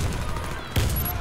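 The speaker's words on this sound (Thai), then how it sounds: "โดนสไนเปอร์ยิงข้างบนอีก" A sniper round cracks in the Warface first-person shooter during a busy firefight, one sharp loud shot that rises out of dense ongoing gunfire and game noise.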